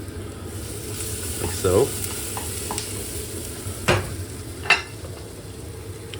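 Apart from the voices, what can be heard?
onions frying in oil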